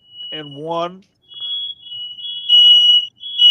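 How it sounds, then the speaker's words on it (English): A smoke alarm goes off in an apartment with a loud, steady high-pitched tone that breaks briefly and resumes, heard after a short burst of a voice. "my roommate set off the fire alarm"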